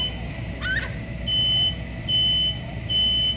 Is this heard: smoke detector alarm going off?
yes